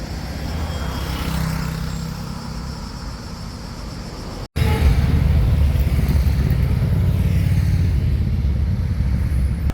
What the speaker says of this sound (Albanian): dalja nga qyteti i Shkodrës për qytetarët ishte mjaft e vështirë për shkak të një fluksi të lartë automjetesh